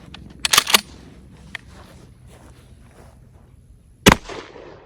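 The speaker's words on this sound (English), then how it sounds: "So one thing I'm noticing is that my shotgun is shooting high." A Remington 870 Wingmaster pump shotgun loaded with double aught buckshot fires two sharp, loud blasts about three and a half seconds apart, outdoors at a range. Quiet ambience fills the gap between the shots.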